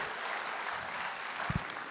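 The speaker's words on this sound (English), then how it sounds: "Please, round of applause to these brothers." A gathering at a silver jubilee celebration applauds the garden department volunteers, a short burst of steady group clapping, moderately loud with a couple of thumps near the end.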